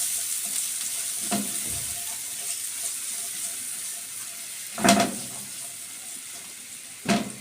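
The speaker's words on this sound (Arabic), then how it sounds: "هنزل بالبصل عليه، هشوحها كويس يا ما تدبل معايا" Onions fry in a pan under a soft, steady sizzle, broken by a few louder scraping stirs of the spoon against the pan, heard close and with no talking.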